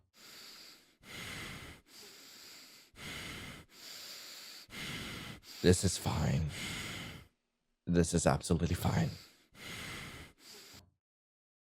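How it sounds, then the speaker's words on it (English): Heavy breathing in a late-night voice message: a slow series of loud, drawn-out inhales and exhales with gasps and sighs, evenly spaced and close, with a few muttered words mixed in. "Is it really just a bunch of breathing? It's just breathing."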